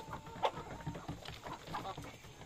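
Native chickens cluck softly while feeding, scattered short clucks and pecking sounds close by, fairly quiet, with faint background voices.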